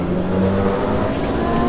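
A Mitsubishi Lancer's engine drones steadily at high revs in the Automobilista 2 racing game at Cadwell Park, a continuous buzzing tone with no talking.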